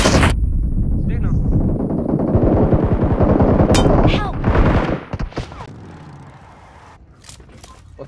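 Rapid automatic gunfire in a mobile battle royale game, played on an iPhone 13, rattles loudly in a fast, continuous burst for several seconds before breaking into scattered single shots and quieter sounds, with voices talking alongside.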